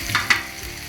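Tomatoes are dropped into onions frying in a pan for masala bhindi, setting off a loud, close, steady sizzle with two brief bursts of hissing.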